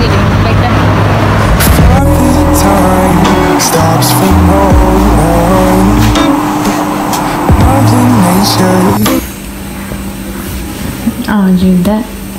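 A car drives past with its engine revving and tires squealing sharply several times, loud and close, then the noise drops to a quieter hum near the end.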